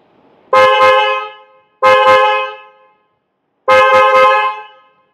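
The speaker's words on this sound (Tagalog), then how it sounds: "And for the horn, I'm using the PIAA sports horn. I'll do a sound check." Three loud, close blasts from a PIAA sports horn on a Yamaha PG1 motorcycle, each a short double-toned honk, with gaps between them.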